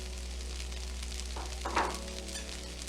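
Garlic herb butter sizzles in a pan of chicken fried rice, a soft, even crackle with a brief stirring scrape partway through, no voices present.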